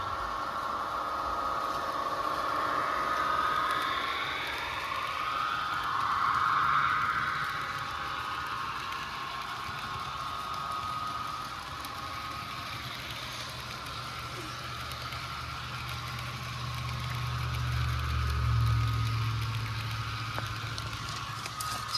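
A small motor whirs steadily with a rising and falling whine, joined later by a low rumble, as an Athearn Genesis HO-scale Union Pacific 1995 CNW Heritage model locomotive runs along track hauling a train.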